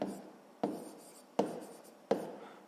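Pen strokes on paper while working a school math problem about circle length, a soft continuous scratching broken by three sharp onsets as new strokes begin, close and fairly quiet with no talking.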